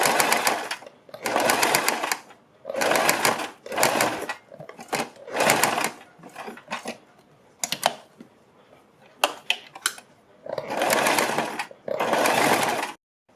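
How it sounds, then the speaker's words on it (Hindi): A domestic sewing machine stitches a folded fabric strip with a binding band, running in repeated bursts of close, steady whirring separated by short pauses and a few sharp clicks. "और तब इसके ऊपर सिलाई लगाएंगे"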